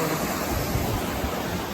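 Water flows steadily at a picnic spot, a dense, even rushing wash that is close and fairly loud, with no other sounds standing out.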